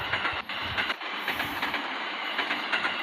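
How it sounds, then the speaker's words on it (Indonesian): An empty container freight train passing close by, a loud continuous rumble and clatter of wheels on rails with a high hiss above, steady throughout and with no talking. "Wah, papasan sama kereta api"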